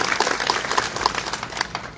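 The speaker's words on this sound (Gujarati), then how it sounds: "આ તમામ માટે એક તાળીઓ થવી જોઈએ." A crowd at an Aam Aadmi Party political gathering claps together, a short, close burst of steady applause without talk.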